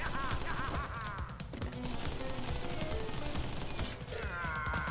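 Enemy gunfire in the video game Crash Bandicoot N. Sane Trilogy, a steady stream of rapid shots mixed with game music and effects, loud and continuous with a brief dip midway.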